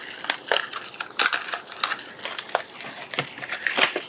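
Box cutter slicing open a sealed box of Capcom Street Fighter convention exclusive trading card packs, giving a run of close, dry crunching and crinkling cardboard and plastic cuts in irregular bursts, with no talking.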